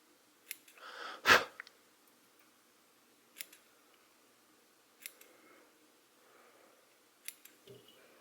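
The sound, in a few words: scissors trimming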